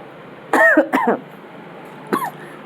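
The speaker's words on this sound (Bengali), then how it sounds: "আমার একটু কাশি হচ্ছিলো" A woman coughs indoors in a quiet room: two close, loud coughs, then a single softer cough after a pause, over a low steady hum.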